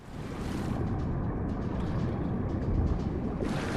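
Rising floodwater in the video game Far Cry Primal, heard as a steady, loud rushing wash of water with wind-like noise throughout, no voices.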